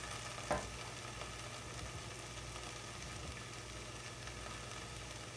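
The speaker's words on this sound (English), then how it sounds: "I'm going to give this a nice little stir." Onions sautéing with freshly cubed pumpkin in a pot, giving a steady, low continuous sizzle throughout with a brief utensil knock near the start, no talking.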